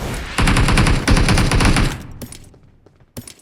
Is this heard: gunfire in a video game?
yes